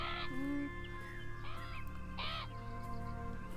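Crows caw in the video game Beyond Eyes, three harsh calls spaced about a second apart, fairly clear over a steady ambient game backdrop with a sustained tonal hum.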